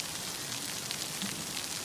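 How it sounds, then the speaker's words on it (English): Steady rain pattering on a tent at a winter campsite in White Mountain National Forest, New Hampshire, a continuous hiss of drops with no talking. "It's still raining. It's not as bad as I thought."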